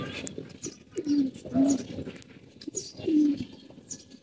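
Breeding pigeons coo in a series of soft, low, rolling calls, three clear phrases spaced a couple of seconds apart over faint background noise and scattered chirps.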